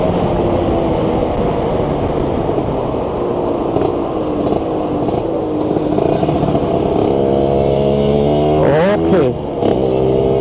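A Suzuki Satria Hiu motorcycle ridden at high speed, its engine droning loud and steady with a sweeping rise in pitch near the end, close and continuous with wind noise throughout.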